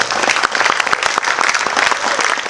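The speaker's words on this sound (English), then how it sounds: "Give yourselves another round of applause." A gathered audience of teens and guests at an event claps loudly and closely, a dense, lively burst of hand claps with distinct individual smacks throughout, continuous and without speech.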